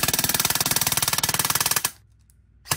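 Poseidon Theseus airsoft rifle firing a rapid full-auto burst of about twenty-five evenly spaced, loud, close shots for nearly two seconds, then a quiet pause before a final brief mechanical clack.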